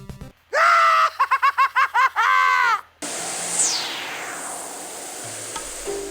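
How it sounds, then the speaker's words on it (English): Mark Hamill's Joker shrieks in rapid repeated bursts of manic screaming laughter from a Batman video game played on an iMac G3, followed by a sweeping whoosh and hiss. "Mark Hamill's Joker screaming is a delight"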